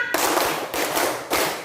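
Schoolchildren clap in unison in a classroom, three loud, evenly spaced bursts of claps with a short rustle between them.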